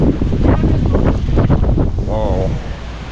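Loud wind roars across the microphone outdoors in Santa Barbara in heavy, rumbling gusts throughout, with a voice briefly audible beneath the buffeting.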